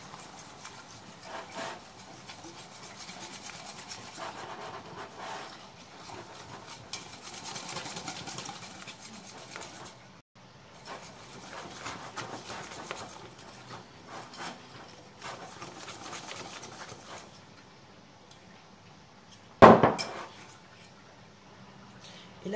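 A whisk stirs chocolate tart batter in a bowl with a soft, continuous scraping and swishing rhythm at close range, ending in a brief louder clatter near the end.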